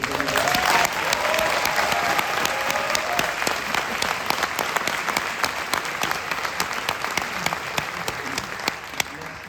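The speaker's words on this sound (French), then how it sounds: "un tonnerre d'applaudissements pour les bénévoles" A festival audience at the Gérardmer fantastic film festival awards ceremony applauds the volunteers, with sustained dense clapping that stays loud and steady throughout, with faint crowd murmur mixed in.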